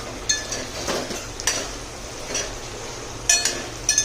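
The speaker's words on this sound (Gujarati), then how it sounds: "હવે જે આપણે સ્વીટ કોર્ન બાફેલી નાખી છે એને એડ કરી દઈશું અને એકદમ સરસ હલાવી લઈશું" Boiled sweet corn tossed with masala in a pan, a spoon scraping and clinking against the metal in irregular strokes, close and fairly loud, with no talking.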